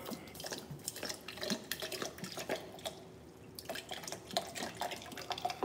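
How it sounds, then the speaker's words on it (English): Water runs and drips from a tap into a sink or pot in a home kitchen while frying fish, a light irregular splashing and trickle heard up close. "Let's add some water."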